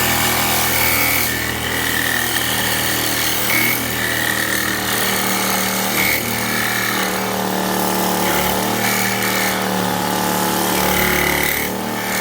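A power saw blade on a Sears 12-inch/6-inch saw grinds steadily through material, loud and close, its pitch dipping and rising as the cut proceeds.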